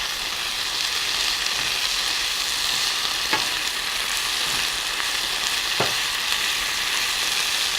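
Minced garlic and raisins sizzle in a hot pan, a constant bright frying hiss up close, broken by a few soft scrapes and clicks as a utensil stirs them.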